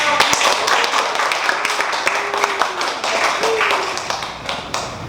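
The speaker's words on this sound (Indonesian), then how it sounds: "Tepuk tangan." A classroom of students claps together, quick irregular hand claps and taps layered into a lively patter over a few seconds, with faint talk beneath.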